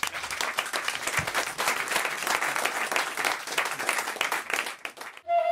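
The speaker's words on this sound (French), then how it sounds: "Bravo, on vous applaudit." Studio audience applause fills a French radio talk show set, steady dense clapping that runs nearly the whole stretch before cutting off into a short jingle-like tone at the end.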